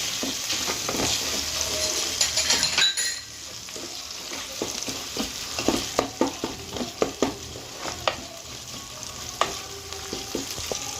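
A paste of poppy seed, melon seed and cashew is stirred in a hot pan, with continuous sizzling under repeated scraping and clinking of a spoon against the pan; no one speaks.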